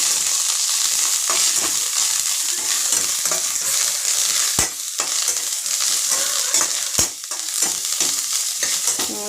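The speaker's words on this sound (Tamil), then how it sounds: "இதை வந்து நல்லா வதக்கிக்கலாம்" Mudakathan greens, balloon vine leaves, sautéing in a pan, a continuous close sizzle broken by repeated scraping and stirring strokes of a spatula, no voices.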